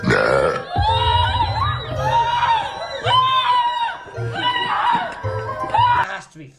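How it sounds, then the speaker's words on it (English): A loud burp booms out amid a lively crowd, followed by children shouting, cheering and laughter, with voices throughout. "the women are terrified when they hear the strange and horrifying sound of a loud burp"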